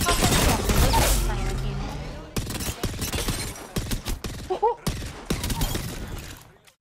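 A Nemesis energy burst rifle fires in Apex Legends, four rounds per trigger pull. Loud, close cracks come in quick clustered bursts, separated by short pauses, after an opening stretch of heavier noise.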